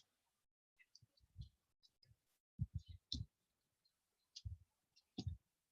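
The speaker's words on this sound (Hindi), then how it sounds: "कुछ भी आपको करना है आप टाइप करिए अपने कीबोर्ड को यूज करके" Typing on a computer keyboard while editing a document in Microsoft Word, heard as scattered bursts of close, quiet key clicks with short pauses between groups, alone with no talking.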